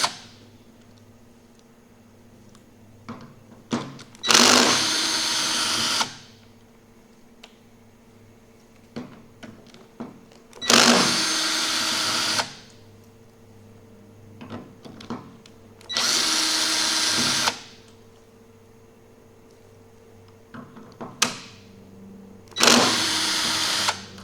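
A power drill removing bolts from the 3-4 accumulator cover on a 2006 Dodge Ram 48RE transmission valve body, with five loud whirring bursts separated by quieter clicks and handling noises.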